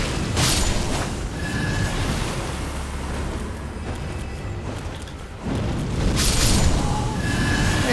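Fire of the Red Mane incantation in Elden Ring, heard as two loud, rumbling fiery blasts near the start and end, with a low roaring whoosh between them and no talking.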